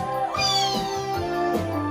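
A cat meows in two or three drawn-out, rising and falling calls heard close and clear during a live stage musical of Joseph and the Amazing Technicolor Dreamcoat, with a faint tonal backing underneath.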